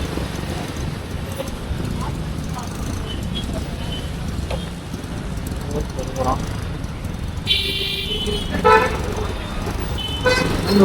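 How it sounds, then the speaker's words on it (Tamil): Dense, heavy road traffic in Chennai between Kilkattalai and Methanagar, heard from a bike ride. Car and vehicle horns honk repeatedly over a constant rumble of engines, with someone talking throughout. "ஐயோ என்ன அவ்வளோ டிராஃபிக்காக இருக்கு"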